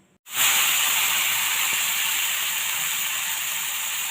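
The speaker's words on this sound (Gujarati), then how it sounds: "તેલ થઈ ગયું છે, આપણે વઘાર કરી લેશું." Spices are tempered in hot oil for a garlic chutney with turmeric and curry leaves, a sudden loud, steady sizzling hiss that bursts in and holds.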